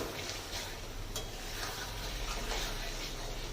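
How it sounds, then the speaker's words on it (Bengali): Eggs being gently stirred and fried in a pan for an egg curry: a faint, steady, soft sizzle with light scraping of the stirring utensil, quiet and close, with no talk. "এই ডিমগুলোকে দিয়ে আলতো করে নেড়ে চেড়ে কষিয়ে নিতে হবে আরেকটু"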